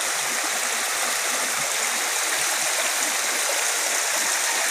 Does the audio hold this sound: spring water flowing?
yes